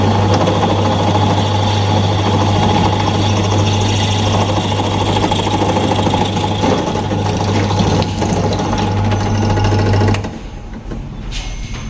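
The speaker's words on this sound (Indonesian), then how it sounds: "Oke, kita bisa mulai pengeboran lagi." A drill bores into a fishing reel part, a Kenzi Boston, with a loud continuous grinding whir that runs steadily for about ten seconds, then cuts off, leaving quieter handling noise.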